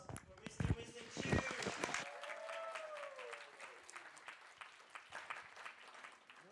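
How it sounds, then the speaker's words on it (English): Audience applauding after a TEDx talk at TEDxTIU 2022, a steady wash of clapping from a crowd that carries on throughout, with a voice speaking over the start. "Can we have one more round of applause for Mr."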